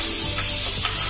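Garlic chutney paste sizzles and fries in a hot pan of crackling mustard seeds, a steady close, dense hiss with faint stirring throughout.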